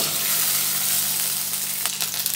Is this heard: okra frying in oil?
yes